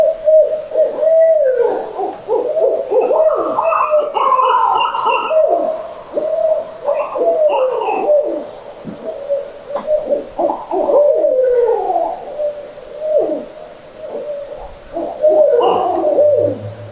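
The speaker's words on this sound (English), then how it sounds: "But the owls were close and fired up." Owls hoot repeatedly and loudly at night near an old cabin in Minnesota, several calls overlapping in a steady, close chorus with soft bird coos mixed in and no talking.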